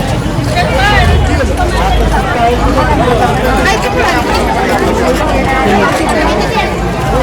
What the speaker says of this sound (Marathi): आता सकाळी एवढी गर्दी आहे